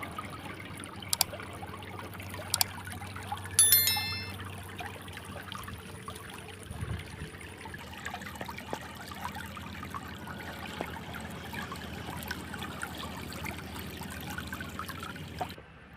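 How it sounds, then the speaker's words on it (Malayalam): A shallow stream flows steadily over rocks on a rocky island during a dry spell, a soft continuous trickle heard alone at a distance, with a few brief clicks and knocks near the start. "വെള്ളം ഒഴുകുന്ന സൗണ്ട് കേൾക്കും."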